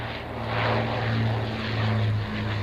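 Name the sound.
Avro Lancaster bomber propeller engines passing over Duxford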